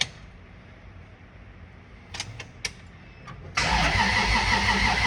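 A Lexus IS300 with a turbo 2JZ-GE engine on a weak battery. Faint background noise gives way to a few short, strained cranking bursts, then a louder steady engine roar takes over for the final seconds.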